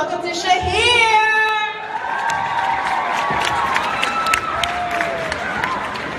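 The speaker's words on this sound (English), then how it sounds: "Wow, round of applause." Crowd of high school students at an assembly cheering and applauding loudly as a guest speaker is welcomed, a dense wash of clapping and shouts with some whistling, steady throughout.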